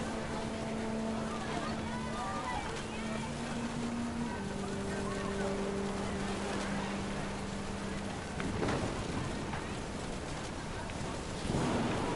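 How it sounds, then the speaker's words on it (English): Heavy rain hisses steadily through a storm in What Remains of Edith Finch, set under sustained musical tones, with deep rolls of thunder swelling later on. "Thunder sounded much too close and full of angry power."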